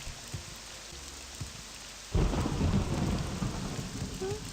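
Quiet steady rain with a few soft drips, then a loud rolling crack of thunder bursts in and rumbles on over the downpour, in the video game The Elder Scrolls III: Morrowind.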